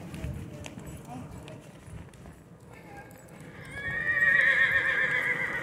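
A ridden horse on a trail gives a loud, drawn-out whinny near the end, after quiet hoof clip-clops and rustling, with faint voices in the background.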